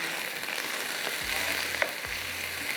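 Beef mince and onion frying in a pot, a steady close sizzle and hiss broken by a couple of brief scraping stirs.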